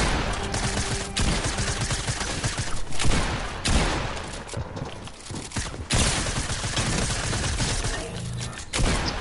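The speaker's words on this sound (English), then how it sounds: "Both of you shooting at me the same time." Two players firing at once in a turtle-themed shooter game, with near, loud bursts of rapid gunfire in overlapping volleys broken by short gaps.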